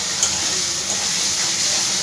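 Ghee sizzles in a hot pan of egg pepper fry, a steady, close, even hiss of frying with no talking.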